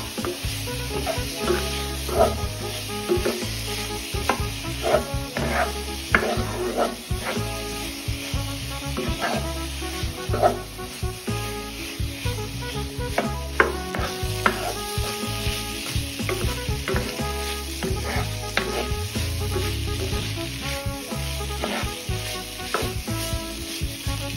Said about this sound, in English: Saute it down for about 45 minutes. Continue to stir.